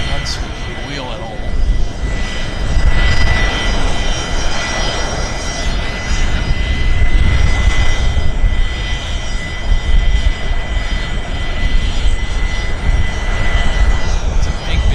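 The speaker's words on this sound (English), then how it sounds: "It's a big BizJet, right?" A large business jet's engines roar steadily at Vancouver airport, a loud continuous rumble that holds for the whole stretch with a faint whine riding on top.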